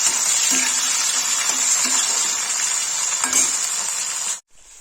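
Lotus stem (nadru) sizzles in a pan for a Kashmiri nadru palak dish, making a steady, close hiss with faint scraping stirs that stops suddenly near the end.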